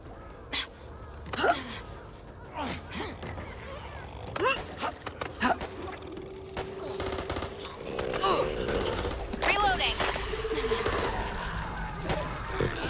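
Gunfire from a cooperative zombie shooter, Back 4 Blood, with sharp bursts and single shots scattered throughout, mixed with creature growls, a sustained tone and excited player talk and shouts over the action.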